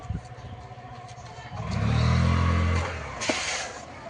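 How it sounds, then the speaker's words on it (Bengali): A motorcycle engine idles with a low burble, then revs up in one strong rising surge and drops back as the rider lifts a wheelie, close and loud. "বান্দা আমাদের এখানে হুইলি তুলবে, তো গাইস চলে আসো তাহলে, হুইলি তুলবো"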